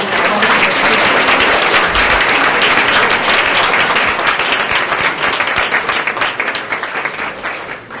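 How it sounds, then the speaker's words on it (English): A final round of applause at an annual discourse and awards ceremony honoring distinguished contributors in biomedical science, loud sustained clapping from a large audience that gradually thins toward the end. "I think we should have one last round of applause for all of our distinguished awardees."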